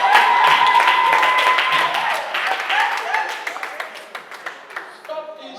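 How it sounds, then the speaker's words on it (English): A crowd claps and cheers in dense, sustained applause during a speech about poverty alleviation and NGOs. Voices mix into the clapping, which thins into scattered claps near the end. "Can somebody clap for Jesus?"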